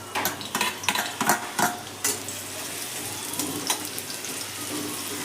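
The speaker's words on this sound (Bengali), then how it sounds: "তেলের মধ্যে আমি পেঁয়াজটা দিয়ে দিলাম।" Chopped onion frying in hot oil in a kadai: a bright, close crackling sizzle with several quick stirring clatters early on, then a steadier hiss.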